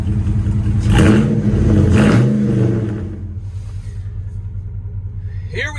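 A muscle car with oversized tires, a lift and 355 rear gears accelerates up a hilly road in western North Carolina. The engine's deep roar rises for about three seconds, then falls back to a lower, steadier rumble with light rattling.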